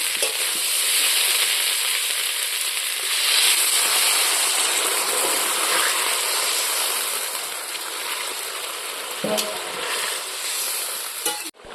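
Water poured into a pan of sizzling potato masala for an egg and jackfruit curry, making a loud continuous hiss and bubbling sizzle that holds steady close up, with a few faint utensil knocks near the end.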